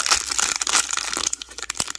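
Plastic wrapping on an LOL Surprise doll package crinkles and crackles as it is opened by hand, a quick close burst of rustling with no talk.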